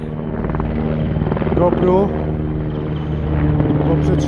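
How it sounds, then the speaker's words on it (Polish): Helicopters fly over the Tatra mountains, a steady low rotor drone running beneath continuous nearby talk throughout. "Tu latają helikoptery"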